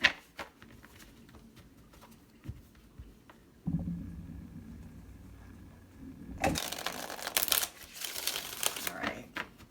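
Quiet tarot card handling with soft taps, then a steady riffling shuffle and a louder burst of cards being bridged and squared near the end.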